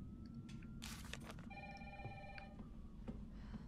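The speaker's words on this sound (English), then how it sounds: "Yeah, phone." A telephone rings inside the Resident Evil 3 Remake video game, a quick burst of electronic bell trills over a steady low ambient hum, fairly quiet and with no talking.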